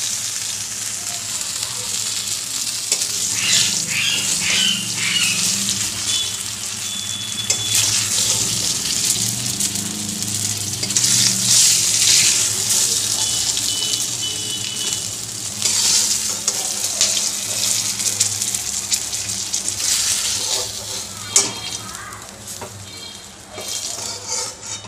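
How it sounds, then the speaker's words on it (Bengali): Brinjal pieces fry in hot oil in a kadai, giving a steady, close sizzle with crackling bursts throughout and no voices. "বেগুনগুলো ঠিক এরকম করে ভেজে নিয়েছি।"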